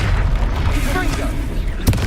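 A Confringo spell explosion in the video game Hogwarts Legacy, a loud booming burst amid ongoing combat noise with a sharp impact near the end and a voice briefly heard.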